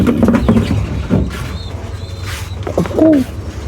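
Pigeons coo softly and repeatedly nearby in a farm pigeon loft, with rustling and a faint bird chirp in the background.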